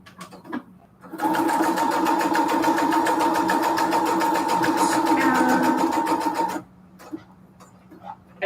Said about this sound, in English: Around the straight stitch.